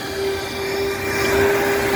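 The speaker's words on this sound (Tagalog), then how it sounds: "Ito yung vacuum." A vacuum cleaner runs steadily at a car wash in Jeddah, giving a constant whining hum with a strong tonal drone, fairly loud and close, with no talking.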